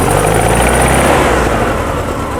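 A Porsche 356 Speedster VW kit car engine revs loudly up close, a dense, steady roar with a rough throb that eases slightly toward the end.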